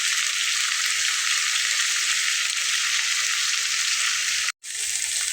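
Taro root curry fries in a hot pan with a loud, steady sizzle and occasional stirring scrapes, broken by a brief cut near the end.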